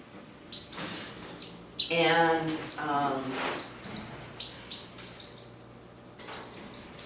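Small birds in a winter aviary give high, repeated chirps and tweets close by, with a louder trilling call in the middle; a single spoken word briefly breaks in.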